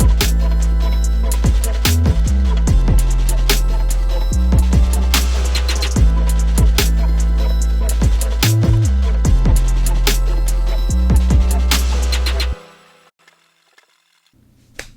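A loud, dense hip-hop beat plays with booming bass, punchy drums, choir voices and orchestral strings layered over a repeating pattern, then drops out abruptly into a faint tail near the end.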